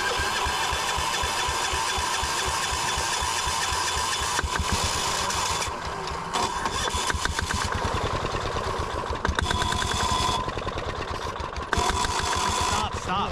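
A Gravely C10A walk-behind tractor repowered with a diesel engine is cranked over, giving a steady rapid chugging rumble that continues for the whole stretch with slight changes in pace, close and loud, while someone talks over it.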